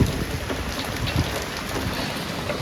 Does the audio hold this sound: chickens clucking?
no